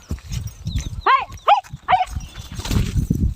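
A dog barks three times in quick succession at close range, sharp and clear over a cluttered background of rustling and scattered noise, with faint voices nearby.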